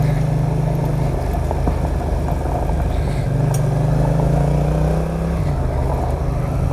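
Yamaha XSR 700 motorcycle riding along a gravel road, its engine droning steadily up close with slight rises in pitch, over constant road and wind noise.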